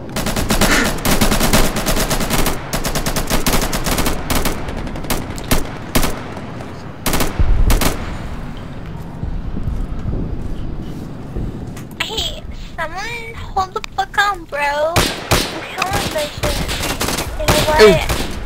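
Gunfire in the Insurgency shooter game: rapid automatic bursts and single shots cracking sharply and loudly in irregular clusters, with excited voices and chatter mixed in.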